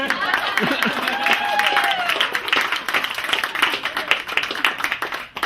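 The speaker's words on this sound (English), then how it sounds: "Oh, I guess you guys can clap for that." Wedding guests clap at a ceremony, a dense patter of applause that thins toward the end, with voices and a cheer mixed in over it.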